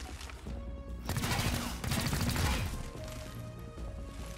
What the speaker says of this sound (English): we are going to shoot the target